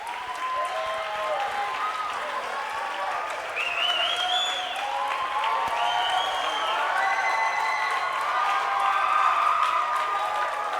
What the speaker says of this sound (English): we're going to give them a hand